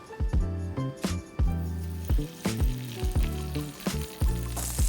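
Butter sizzles steadily in a pan before green beans are sautéed. The hiss is close and continuous beneath rhythmic, tonal background music.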